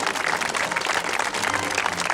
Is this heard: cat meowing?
no